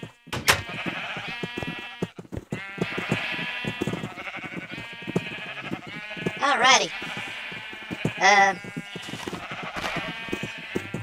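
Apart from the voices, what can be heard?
sheep bleating in a video game (Minecraft)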